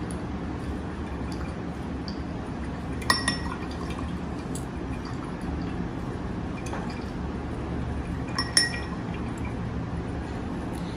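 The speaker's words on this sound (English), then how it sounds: "Wash your brush." A paintbrush washed in a glass of water: quiet sloshing and swirling, with two sharp clinks of the brush against the glass partway through, alone without talk.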